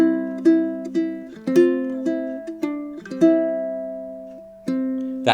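Ukulele playing an easier fingerstyle arrangement of Wonderful Merciful Savior, with clear, plucked single notes and chords ringing out in a slow, gentle rhythm, close and solo.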